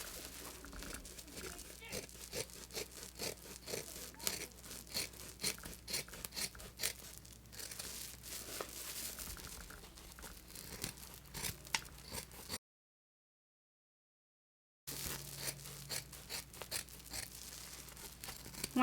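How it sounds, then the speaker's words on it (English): Scissors trimming extra fabric off an in-the-hoop machine-embroidered potholder, steady close crunching snips and fabric rustle continuing for a long stretch with one brief gap, under occasional talk. "Go ahead and take your scissors and you are just cutting the extra fabric off."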